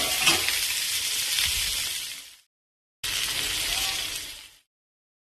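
Onion, green chilli, ginger, garlic and a few cashews sizzle and fry in butter, a loud broadband hiss with faint stirring that runs for about two seconds, cuts out, then returns for another stretch before breaking off again.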